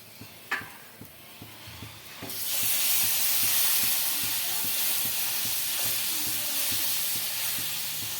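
Dosa batter hits a hot pan over high flame and breaks into a loud, steady hiss of sizzling that holds to the end, preceded by a few soft taps and knocks.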